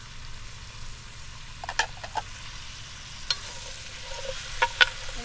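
Chopped celery and carrots cook in a Dutch oven over a campfire, a soft low sizzle with a few distinct scraping stirs and clinks of a utensil against the pot.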